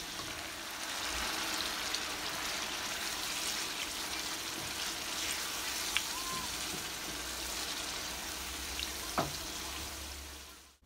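Fish frying in oil hisses and sizzles steadily as water is added to the pan, with a few faint clinks and stirring sounds over the dense crackle.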